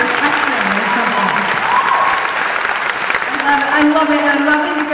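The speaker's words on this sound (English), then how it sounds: "I love it you guys are applauding" An audience applauds during a talk about living with MS, loud sustained clapping with voices and cheering mixed through it.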